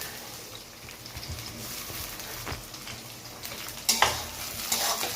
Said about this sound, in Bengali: টমেটোটা হালকা ভেজে নেব।